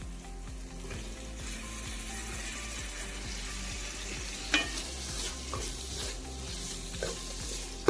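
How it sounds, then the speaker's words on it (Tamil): Ginger garlic paste fries in a pan for Madurai-style chicken biryani under quick, rhythmic stirring scrapes over a soft, steady sizzle. It is fairly quiet throughout, with one or two louder clinks near the end and no talk. "இஞ்சி பூண்டு பேஸ்ட் சேர்த்ததும் அடிப்பிடிக்க விடாமல் நல்லா கிண்டிக்கிட்டே இருங்க"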